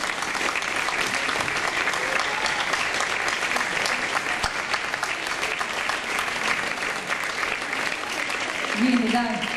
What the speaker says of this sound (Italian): Grande applauso a Silvia.